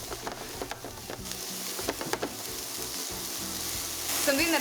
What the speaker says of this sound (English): add your onions after your pan is hot.